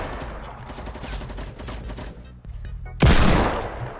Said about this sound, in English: Watch, I'm about to one-shot somebody with the hand cannon.